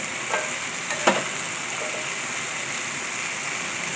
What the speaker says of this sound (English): I want to put down the asparagus first.